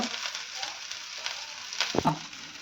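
Two chillies sizzling in a hot pan, a steady crackling fry with a brief clatter of stirring near the end, close and fairly quiet with no talking.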